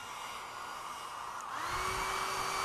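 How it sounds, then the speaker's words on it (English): A blow dryer runs steadily to warm O-rings for a Pura UV system's glass sleeve, a constant whirring hum whose pitch shifts partway through, fairly faint and alone. "I use a blow dryer to warm them up"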